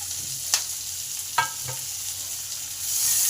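Finely chopped onions fry in oil in a pan for a soya chunk curry, a low steady sizzle broken by a few sharp spatula scrapes and taps, with the frying swelling louder near the end.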